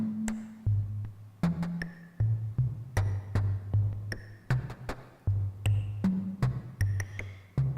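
A modular synth patch sends E950 noise through Streams, triggered by Grids, producing a steady rhythmic pattern of short percussive hits mixed with low pitched blips.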